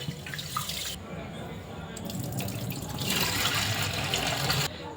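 Soaked green gram being washed under a running tap, a steady splashing gush of water that swells louder partway through, with soft sloshing and dripping close by.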